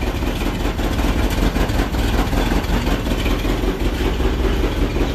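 A 1966 Ford F-100 pickup engine idling with a newly installed carburetor, a steady, even rumble heard close and alone.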